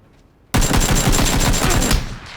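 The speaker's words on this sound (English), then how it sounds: "You'll notice I made sure my AKM was on single." AKM rifle fire in PUBG, an abrupt loud burst of rapid sharp reports lasting about a second and a half after a brief quiet lead-in, then tapering off.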